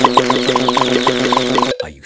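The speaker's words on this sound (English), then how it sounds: "Happy Mrs. Chicken. You can win a sticker every 100 eggs that hatch" A cartoon chicken in a children's video game clucks in quick repeated bursts over a bouncy game music loop, then cuts off abruptly into a short different sound near the end.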